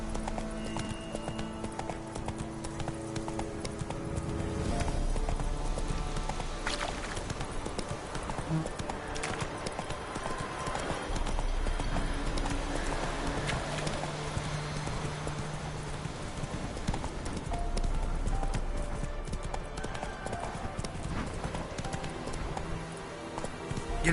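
Horse hooves clip-clop at a steady gallop in The Witcher 3 on PS4, continuous and fairly close, layered with game music, ambient birdsong and an occasional whinny.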